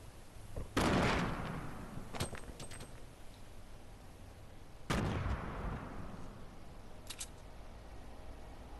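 Gunfire in the video game Fortnite: two heavy booming shots several seconds apart, each with a long fading tail, plus a few lighter sharp cracks in between.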